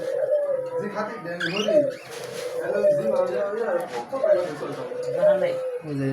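Pigeons or doves coo repeatedly at a bird shop while feeding below their cages, with someone talking steadily over the calls throughout.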